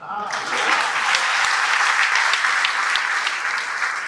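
A large audience claps in sustained, loud applause at the closing ceremony of the birth centenary year of Bharat Vikas Parishad's founder, Dr. Suraj Prakash. The dense clapping fills the whole stretch without stopping.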